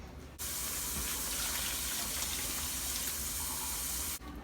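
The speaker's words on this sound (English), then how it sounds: "I'm going to grab some water and I'm just going to put water to level" Water runs steadily into a pot of Puerto Rican rice with peas, a continuous close splashing gush that starts abruptly, holds for several seconds and then cuts off, with no talking.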